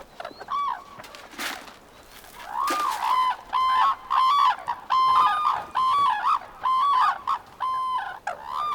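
Red-crowned cranes in Hokkaido call in a loud run of bugling, honking notes. The calls start sparse and build into a steady, rhythmic duet that is close and clear.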